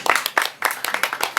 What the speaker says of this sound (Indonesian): Tepuk tangan buat Honda.